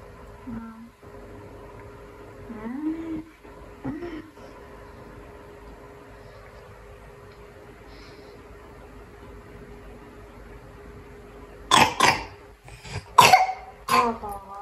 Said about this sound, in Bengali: আমার বাবা তো কাশি হয়েছে।